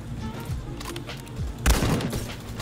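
Sniper rifle gunfire in a Roblox Call of Duty–style shooter, with a few muffled shots and thumps followed by one sharp, louder rifle crack near the end.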